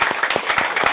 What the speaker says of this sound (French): On applaudit encore pour vous.